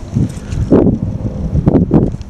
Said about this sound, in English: It's still a little windy, if you can see.